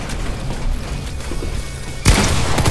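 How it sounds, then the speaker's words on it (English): Gunfire in Fortnite Zone Wars: muffled distant shots and thumps, then a loud sudden burst of close gunfire near the end. "None of these shots are hitting, for real."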